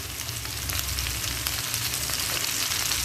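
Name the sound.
onions frying in pan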